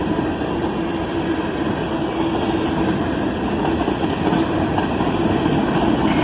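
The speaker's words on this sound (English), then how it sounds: "Just a big manifest train slowly making its way through town." A long manifest freight train, with units from Canadian Pacific, Norfolk Southern and BNSF, rolls slowly through town, its cars producing a steady, loud rumble and clatter with faint squeals, sustained throughout without talking.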